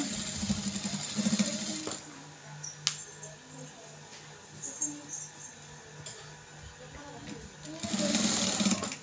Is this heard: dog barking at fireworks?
no